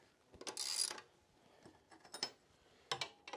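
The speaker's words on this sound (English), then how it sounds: "take our 3/4 inch wrench here and tighten her up" A 3/4-inch wrench tightens a nut during a neutral switch replacement on a Sportster motorcycle, making quiet, sparse metallic clicks and ratcheting taps in short bursts.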